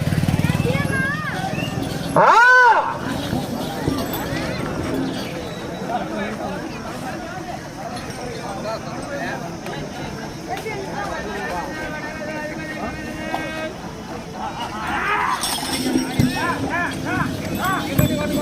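Bullocks' hooves clop and thud as they run past at a bullock-pair competition in Kamalapuram, mixed with an excited crowd babble and shouting voices, plus a brief engine-like whine.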